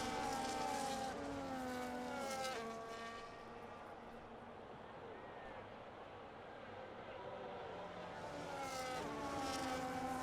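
F1 race cars at Silverstone in the F1 25 racing game, engines whining at high revs as they pass, loud at the start, easing in the middle and rising again, with a commentator talking over them.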